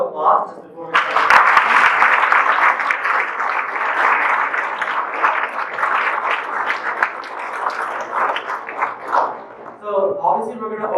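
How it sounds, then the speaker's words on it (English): A round of applause from a campus lecture audience at the University of Texas, starting abruptly and building into dense clapping that fades at the end as talk resumes. "Let's do another round of applause just before we start."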